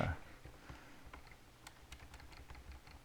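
Grades being typed on a computer keyboard, a quiet run of quick irregular key clicks, close and steady, with no talk over them.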